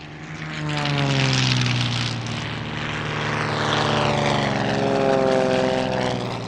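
Propeller aerobatic formation team aircraft taking off in an opposition takeoff at the Leszno airshow in Poland, a loud, sustained engine drone with a rising and shifting pitch as the planes pass close by.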